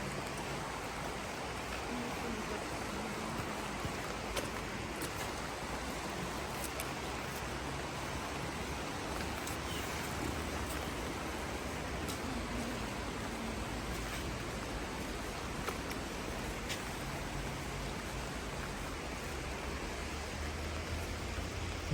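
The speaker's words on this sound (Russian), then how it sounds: "Лучше б снег бы шел, чем этот дождь." Steady rain on a January day in the mountains near Sochi, a constant even hiss with faint scattered drops, no voices.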